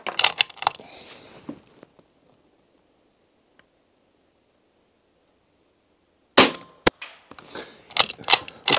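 A World War II De Lisle suppressed carbine fires as a muffled crack with metallic clatter and ringing, in two bursts separated by several seconds of near silence.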